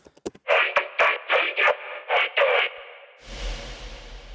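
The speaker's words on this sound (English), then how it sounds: "And you can hear the reverb wash there." Dubstep bass made in Serum and resampled, with Valhalla reverb: several loud stuttered bass bursts in quick rhythm, then a diffuse reverb wash that swells and lingers to the end.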